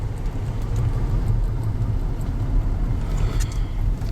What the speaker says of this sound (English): All right, we're having our test drive and let's see when I hit the brakes.